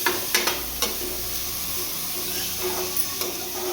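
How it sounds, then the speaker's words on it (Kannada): Onions sautéing in a pan for a carrot and beetroot stir-fry give a steady close sizzle, broken by several sharp spatula clicks against the pan early on and a few more stirring scrapes near the end. "ಈರುಳ್ಳಿನ ಚೆನ್ನಾಗಿ ಬಾಡಿಸ್ತಾ ಇದ್ದೀವಿ"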